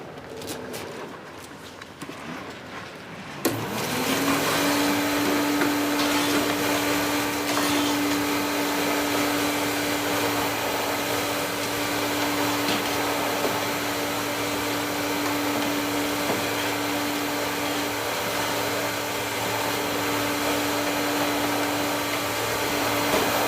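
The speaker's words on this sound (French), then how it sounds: "j'étais en train de passer l'aspirateur" A household vacuum cleaner switches on after a few seconds of quieter room sound, then runs loud and steady with a constant whine and broadband roar to the end.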